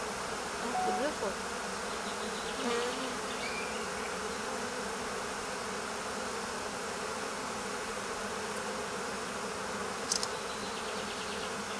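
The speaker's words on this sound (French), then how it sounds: "Voilà, ça c'est un mâle d'abeille." A dense, steady buzzing of honeybees around a swarm settled on a shrub, the drone's hum blending into the continuous insect drone at close range.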